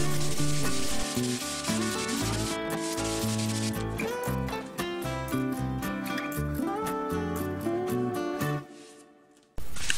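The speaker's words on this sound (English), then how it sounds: "sanding the leading edge like this." Hand sanding along the leading edge of a Bango 2 RC trainer plane, heard as steady back-and-forth rubbing strokes close up that stop abruptly near the end.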